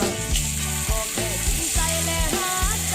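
Steak sizzles in a frying pan in a home kitchen. The steady frying hiss is overlaid by a tonal, melodic background sound throughout the short stretch.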